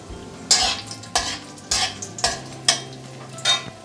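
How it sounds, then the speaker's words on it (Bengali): Cashew nuts frying in white oil in a kadai are stirred with a utensil, about half a dozen evenly spaced scraping strokes over a soft, continuous sizzle, close and clear. "এবার কাজ হলো ড্রাই ফ্রুটগুলো ভেজে নিতে হবে। দিয়ে দিলাম কাজু বাদামগুলো,"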